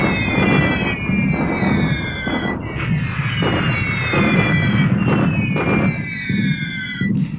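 Airstrike explosions in the WWII Pacific war strategy game War in the Pacific: Admiral's Edition: descending whistles of falling bombs over a continuous, loud roar of rumbling blasts, with no talking.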